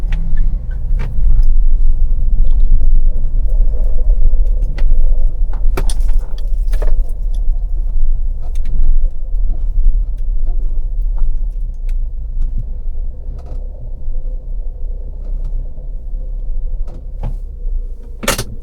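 A Mahindra Thar is driven into a wheel alignment workshop, its engine a loud steady low rumble close by, with clinks and door-like knocks scattered over it.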